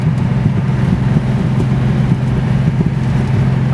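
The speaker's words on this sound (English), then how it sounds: "I really like the exhaust. It's like throaty but not loud." A Datsun 260Z exhaust while driving, a steady low throaty drone under road and cabin noise, constant and moderately loud without revving peaks.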